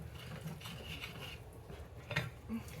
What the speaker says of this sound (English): We're just going to keep stirring.